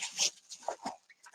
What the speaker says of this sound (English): My dog has decided to go outside and bark at something.